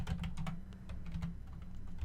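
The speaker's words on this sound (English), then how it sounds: "Trying to type around my mic here." Rapid, close computer keyboard typing taps along in an uneven rhythm right beside the microphone, over a low steady hum.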